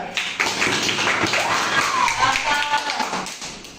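A classroom of students claps together in a short burst of dense, busy applause. A teacher's voice carries over the clapping.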